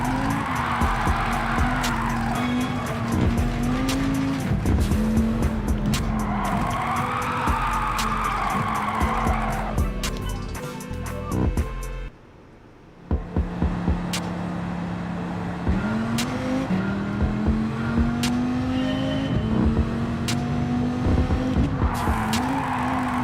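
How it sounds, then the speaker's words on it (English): Engine roar and long tire squeals from a car drifting through turns in Gran Turismo 7 on PS4 Pro, loud and continuous with rising and falling revs and a brief drop near the middle. "That turn's tough to drift around."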